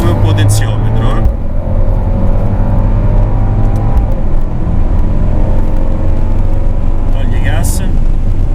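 A Mercedes AMG pulls hard on a race track, its engine a loud, close, continuous drone with a shift in pitch partway through, as a voice talks over it.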